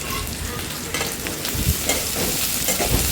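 Onions with salt fry in a pan while being stirred, a steady close sizzle with repeated scraping and stirring scuffs throughout.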